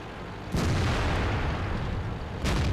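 A tank cannon fires in World of Tanks with a sharp broadband boom at about half a second, followed by continuous rumbling battle noise and a second blast near the end.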